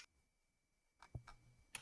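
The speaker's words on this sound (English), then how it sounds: "I'm typing right now." Quick bursts of clicking keystrokes on a computer keyboard come after a short silence, faint and close, with no voices.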